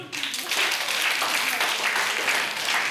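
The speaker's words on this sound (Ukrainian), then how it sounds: "Ваші оплески, друзі" Steady crowd applause fills the whole stretch, a dense wash of many hands clapping at even loudness, with faint voices mixed in.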